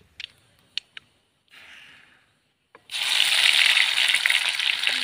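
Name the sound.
cumin and mustard seeds spluttering in hot oil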